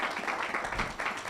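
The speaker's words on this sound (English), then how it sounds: "Please give her a round of applause for me." A fairly faint, brief round of applause comes from the audience at a University of Ghana–linked panel discussion, with steady clapping and a little background voice.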